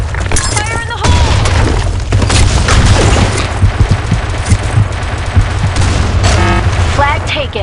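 Gunfire and a grenade blast in the online shooter Blackshot on a sandstorm map, dense continuous shooting and booms with in-game voice callouts layered over the top.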